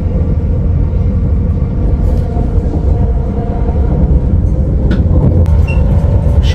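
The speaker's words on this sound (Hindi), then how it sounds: "शिखारबीक ट्रेन पहुँच गई है, अब यहाँ से नीचे उतरेंगे।" A train pulls into Schaarbeek station near Brussels with a loud, steady rolling rumble throughout and a brief high squeal near the end.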